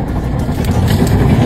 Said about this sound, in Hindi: टायर अभी भी घूम रहे हैं।